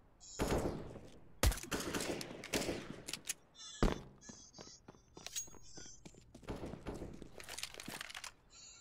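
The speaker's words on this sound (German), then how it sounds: "Ey, was sind das für Schüsse?" Gunfire in the video game Counter-Strike: Global Offensive, with sharp shots and short bursts scattered over several seconds, loud cracks mixed with softer distant pops and clicks.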